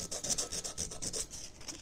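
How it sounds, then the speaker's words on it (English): Sandpaper rubbing a leaf pattern off a glass apple juice bottle, heard as close, steady, rhythmic scraping strokes with no voices. "so it's a little easier to sand them off"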